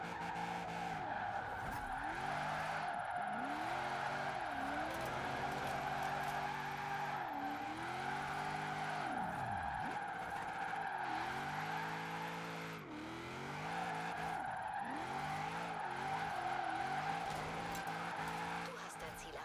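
A race car in the Forza racing game screeches through corners with repeated tire squeal and engine revs that rise and fall steadily, with someone talking over it.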